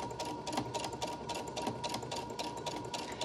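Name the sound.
sewing machine back stitching fabric face mask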